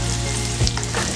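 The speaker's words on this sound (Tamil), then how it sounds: "இது ஒரு மூணு நிமிஷம் நல்லா கொதிக்கட்டும்." Steady crackling sizzle of kulambu curry simmering in a pan, close and continuous, with a brief stir or clink midway.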